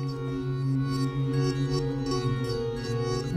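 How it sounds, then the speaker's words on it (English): A sustained synth tone with several held harmonic notes, washed in lingering reverb that smears and blends them, playing alone at moderate volume. "You might be able to be hearing that reverb right now"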